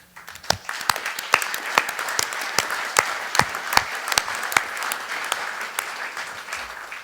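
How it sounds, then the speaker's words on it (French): Audience applause at a solar prize award ceremony, a steady wash of clapping with distinct individual sharp claps standing out, sustained and fairly close. "je vous invite à applaudir"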